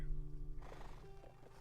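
A horse whinnies in Black Desert Online, a short rising neigh with harmonic bands starting partway through, over a steady low game hum.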